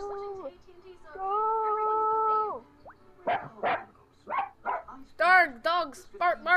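A dog barks, yips and whimpers in uneven bursts close by, mixed with a human voice mimicking and calling out.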